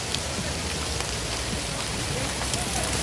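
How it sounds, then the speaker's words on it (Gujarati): Heavy rain pours down outdoors at the Matheran hill station, a steady dense hiss of falling water that fills the scene at close range without pause. "અત્યારે ખૂબ જ વરસાદ પડી રહ્યો છે"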